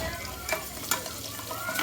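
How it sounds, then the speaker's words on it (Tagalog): Garlic sautéing in a pan gives a soft, steady sizzle broken by a few sharp scrapes and clinks of stirring, fairly quiet and close, with no talking. "Saute the bawang like this."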